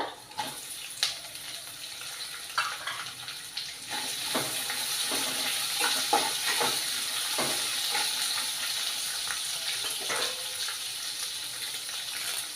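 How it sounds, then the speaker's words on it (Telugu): Onions and curry leaves frying in a pan for rice upma, a close, bright hissing sizzle with scattered crackles and pops that grows denser after the first few seconds. "కరివేపాకు, ఇవి బ్రౌన్ కలర్ వచ్చినంత వరకు వేయించుకోవాలి"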